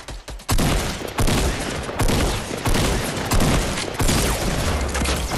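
Rapid bursts of gunfire from the Fortnite video game ring out loud and close, several volleys of repeated shots in quick succession with brief gaps between them.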